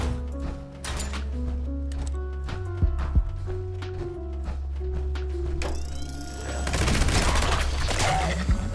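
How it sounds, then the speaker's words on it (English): Rapid mechanical gunfire from a Juggernaut's Gauss minigun in Fallout 76, with dense repeated shots over a steady game music bed and a louder, noisier burst near the end. "Let's see what this Juggernaut's Gauss minigun's like."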